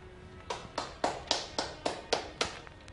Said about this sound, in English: Let's have a nice round of applause for